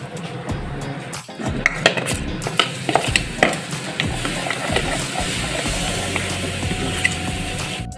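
Salt, turmeric, black cumin and sugar stirred in a heated pan: a soft sizzle beneath scraping strokes and light clinks of a utensil against the pan, close by.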